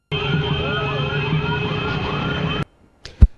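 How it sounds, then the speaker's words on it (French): Car horns and ululation fill the city streets of Konsamba, Cameroon, celebrating the end of the Ramadan fast, with steady blaring tones and warbling calls sustained loudly. The sound cuts off abruptly, followed by a brief thump. "klaxons et autres youyou font grand bruit dans les artères de la ville de Konsamba"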